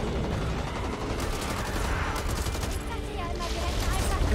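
Rapid gunfire rattles in Back 4 Blood as players shoot at the Ogre, dense bursts of shots heard over a busy game soundscape.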